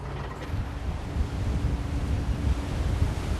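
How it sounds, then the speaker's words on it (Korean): Rough winter sea churns around a fishing boat working crab pots, a steady low wash of waves with wind buffeting the microphone, close and continuous with no voices. "그런데 파도가 심상치 않다."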